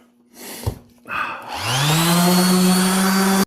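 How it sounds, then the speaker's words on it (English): A power sander starts on a hardwood countertop: a brief knock and a pause, then the motor spins up into a loud steady whine and drone that holds close by until it cuts off abruptly at the end. "Now when you're sanding, you want to go with the grain."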